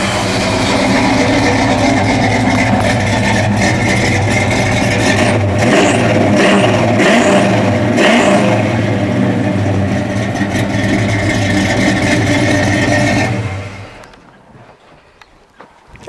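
A deep, rumbling V8 engine of a 1966 Pontiac GTO revs loudly through the tailpipe, with several sharp throttle blips over a steady burbling idle before cutting off.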